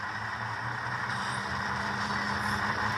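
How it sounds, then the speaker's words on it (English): An Intermountain HO scale ET44 Tier 4 model locomotive hauling freight cars on track gives a steady, close mechanical rumble and hum, with brief faint high wheel-flange squeals rising above it. "You actually hear wheel flange sounds"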